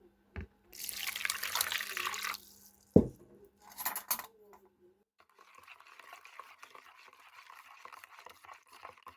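Water for yeast dough poured in a home kitchen, a short burst of running and splashing liquid, followed by a clink and a brief second pour, then quieter handling sounds with a voice speaking.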